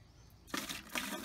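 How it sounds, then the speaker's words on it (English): Water pours into a container to mix an electrolyte solution for electrolysis rust removal, a sudden splashing gush that starts after a quiet moment and runs on steadily, close by. "So now we're gonna pour some water into this solution."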